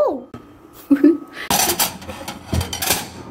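Dishes clink and clatter in a home kitchen while someone searches for a small bowl, with sharp knocks and a rummaging burst of crockery noise, close and fairly loud after a brief quiet opening.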